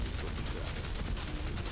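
Rapid gunfire from Blight rounds weapon in Outriders, a dense sustained burst of shots filling the whole moment, loud and steady with no talk over it.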